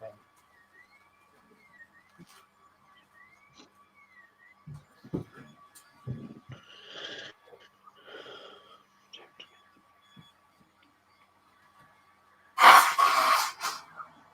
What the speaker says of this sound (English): Can I just take a very quick break and just blow my nose?